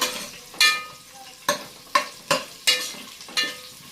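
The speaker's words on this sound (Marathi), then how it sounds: "हे तेलामध्ये चांगलं परतून घेऊया आपण." Chopped onion sautéing in hot oil for a spicy chicken curry, with a steady sizzle broken by about six sharp stirring scrapes at irregular intervals, close and fairly loud.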